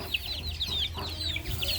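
Thai fighting roosters cluck in a farmyard, with several short, close clucks and chatter repeating over a low background hum.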